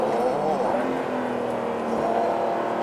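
Porsche 911 Carrera GTS Cabriolet engine running steadily at a constant drone while driving, with a voice speaking over it.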